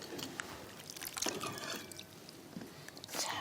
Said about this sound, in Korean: 채에다가 받쳐보도록 할게요.